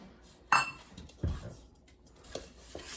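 A spoon clinks and scrapes around a bowl of peanut butter cookie batter being mixed by a toddler, a few distinct knocks spaced out over quiet background.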